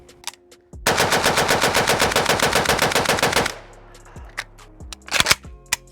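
A rifle fitted with a muzzle brake fires a long rapid burst of about two dozen evenly spaced sharp, loud shots, then stops, with a few scattered clicks and knocks afterward.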